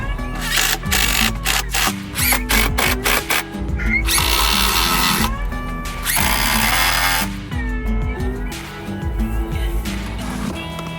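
A power drill drives screws into recycled lumber, whirring loudly and steadily in repeated pulses that stop and restart, close up and with no talking.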